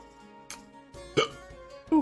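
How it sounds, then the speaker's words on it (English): A few short, sharp hiccups from a person in a quiet indoor room, spaced roughly half a second apart, close to the microphone with no talk around them. "hiccups."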